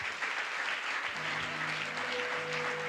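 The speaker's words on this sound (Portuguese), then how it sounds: "Vamos aplaudir." An audience claps together during a Tuesday evening church service on marriage, with brisk applause filling the room and a few steady tones sounding faintly beneath it.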